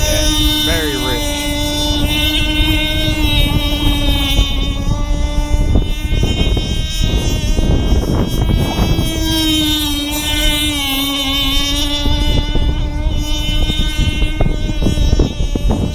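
A Micro Burst 21 model boat engine running very rich at slow speed drones loudly and steadily for the whole stretch, its buzzing pitch wavering slightly, with wind noise over the microphone.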